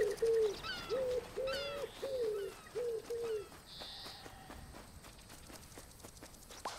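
A bird called ridibundus gives a series of about five repeated cooing calls in an even rhythm, fairly close, followed by softer chirps and scattered outdoor clicks.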